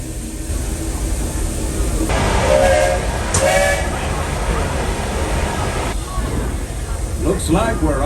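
Walt Disney World Railroad train at Magic Kingdom pulling out on its scenic loop, a steady rolling rumble with bright whistle-like tones sounding twice midway, continuous and fairly close.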